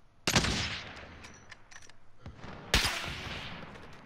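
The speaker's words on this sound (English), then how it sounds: "Oh, I'm being shot at." Two sharp gunshot bursts from Call of Duty gameplay, each followed by a ringing tail, with fainter pops and clicks in between.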